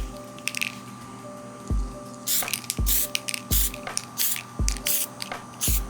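An aerosol can sprays clear coat onto a custom action figure in several close hissing bursts, separated by sharp clicks and handling noises.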